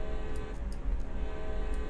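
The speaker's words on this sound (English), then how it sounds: "give a couple quick blasts of our horn" Locomotive horn sounding in Train Sim World's CSX Heavy Haul, a loud sustained tone over a low rumbling engine and rail drone, with brief louder blasts standing out.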